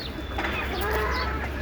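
Native chickens kept on a rooftop farm give soft, scattered clucks and calls over a steady outdoor background hum, fairly faint and close by.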